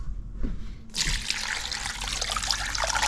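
After a brief pause with a couple of soft knocks, cold tap water starts gushing into a pot, running as a steady, fairly close splash for the rest of the moment.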